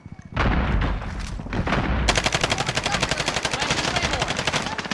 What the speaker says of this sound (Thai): เฮ้ยใครยิงกูวะ